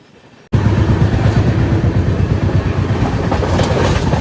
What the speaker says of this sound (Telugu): మన పక్కన పోతుంది కదా అండమాన్ ఎక్స్ప్రెస్